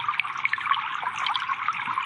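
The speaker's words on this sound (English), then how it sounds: "but then there's also this gurgling" Gurgling water sound effect for game audio: continuous bubbling and trickling with bright, high-pitched splashy detail over a low gurgle, steady and close throughout, no voices.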